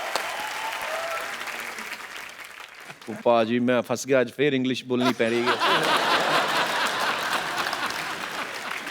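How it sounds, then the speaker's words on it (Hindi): A television comedy show audience claps and chuckles. The applause fades to a lull, someone speaks over a quiet stretch, and then clapping swells again, steady and fairly loud, after his line. "आप लोग तालियां बजाते रहिए"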